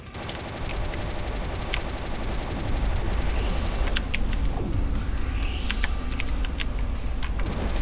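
Sustained rapid gunfire in the horror game The House of Unrest, dense automatic bursts rattling loud and close over a continuous roar, with sharp individual shots standing out throughout.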